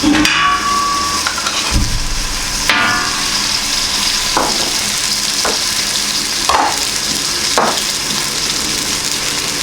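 Sausage goes down onto a Camp Chef FTG600 flat top grill slicked with canola oil and sizzles steadily and loudly, punctuated by several sharp metallic taps and scrapes of a utensil on the griddle.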